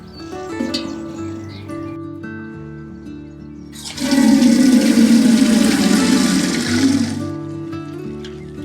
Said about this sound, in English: I am going to water it because it's dried out a bit with some seaweed mix